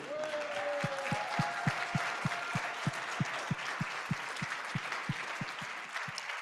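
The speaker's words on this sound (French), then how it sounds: "applaudissons-nous" Seminar attendees applaud, a dense crowd clapping heard alongside a loud, regular rhythmic thump close by, like one person clapping or stamping in steady beats, continuing for several seconds.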